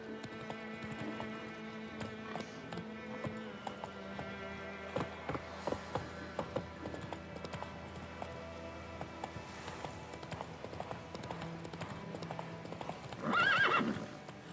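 Horse in The Witcher 3 clip-clopping with steady hoofbeats, ending in a loud whinny near the close.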